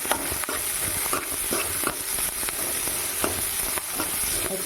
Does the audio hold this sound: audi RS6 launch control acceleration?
no